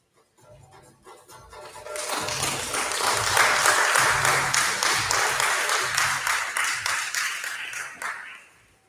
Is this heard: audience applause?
yes